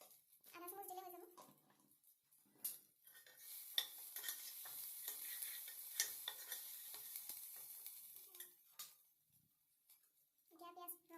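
Onions frying in a pan with cumin powder, cashews and raisins, a steady close sizzle with occasional stirring scrapes, and a voice talking briefly at the start and end.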